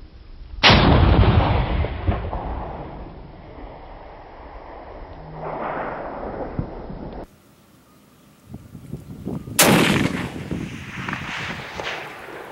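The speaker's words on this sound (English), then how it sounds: "I got 120 grain ballistic tips in my 7mm Remington Magnum" A 7mm Remington Magnum rifle loaded with 120 grain ballistic tips fires during a long range groundhog hunt, two loud sharp shots several seconds apart, each with a booming outdoor decay and wind rumble in between.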